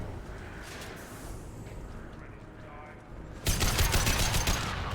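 Weapons firing in the video game Mass Effect 2: a muffled rumble of combat, then a sudden loud, dense burst of gunfire that keeps going to the end.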